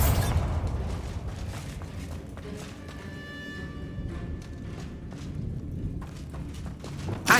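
Bombarda spell explosions in the video game Hogwarts Legacy, a burst of booming blasts at the start fading into rumbling debris, with another sharp bang near the end.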